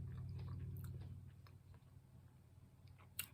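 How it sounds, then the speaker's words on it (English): Crunching on a strawberry vanilla pretzel, soft close-up chewing with faint crisp clicks and a low mouth rumble that fades, ending with a sharper bite, quiet and intimate. "So it's kind of like I crunch it."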